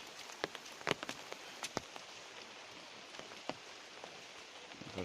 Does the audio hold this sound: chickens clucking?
no